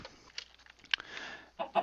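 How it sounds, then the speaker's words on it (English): Minecraft chickens clucking in the video game, a few short separate clucks close up with quiet gaps between them and no talking. "Chickens."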